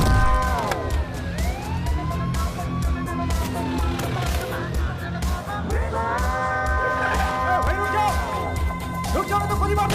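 Ambulance siren wailing loudly and close, rising and falling in repeated sweeps with a steady drone beneath, set in a tense dramatic film scene.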